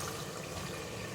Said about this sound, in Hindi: अभी 1 गिलास इसमें पानी का शामिल कर दें।